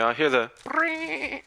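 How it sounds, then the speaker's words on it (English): Sheep bleating inside the video game Black Ops 4, a couple of wavering nasal calls close up, mixed with players talking. "That sound like a sheep, mate."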